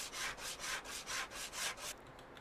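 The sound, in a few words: sanding a car with a coarse sander in a video game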